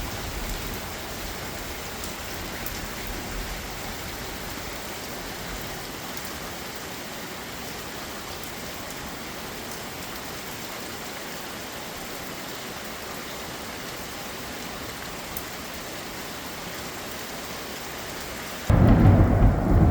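Steady rain pours down with rumbling thunder through a rainstorm, a constant wash of noise that swells into a louder, deeper roll at the very end.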